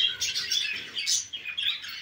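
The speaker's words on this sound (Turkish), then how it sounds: "Harika, çok güzel kuşlar var." Many birds in an aviary chirp and tweet at once, a busy, continuous high-pitched chatter from several birds close by with no talking.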